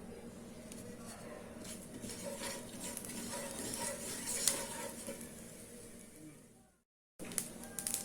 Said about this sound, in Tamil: இதில் வந்து நம்ம கடுகும் சீரகமும் தாளிச்சுக்கலாம்